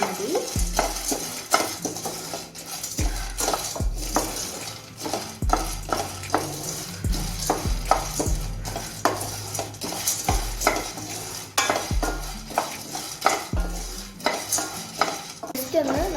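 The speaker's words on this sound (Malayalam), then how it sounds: "തൊലി കളഞ്ഞു വെച്ചിരിക്കുന്ന 200 ഗ്രാം കപ്പലണ്ടി ഇതിലേക്ക് ഇട്ട് കൊടുക്കാം. ഇതൊന്ന് ഇളക്കി കൊടുക്കാം. ഇതൊന്ന് വറുത്തെടുക്കണം." Peeled groundnuts being stirred and roasted in a pan on the stove, with repeated scraping and clinking of a spatula against the pan over a low sizzle, steady and close.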